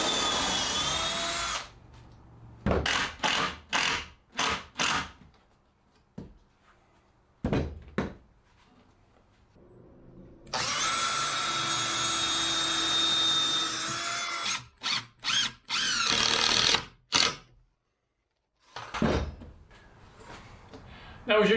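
Power drill driving 3-inch trim head screws into the wooden frame of a DIY cold frame, heard in loud whirring bursts of a few seconds each, separated by quieter pauses, handling thuds and a person talking.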